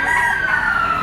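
Young rooster (stag) at a poultry auction market, a single loud sustained crow held steadily throughout, close by.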